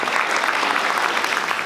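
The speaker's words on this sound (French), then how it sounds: "on peut applaudir" Audience at a Comic Con Paris panel for Dark Stories applauding, a loud, dense and even roar of clapping from a large crowd, sustained throughout.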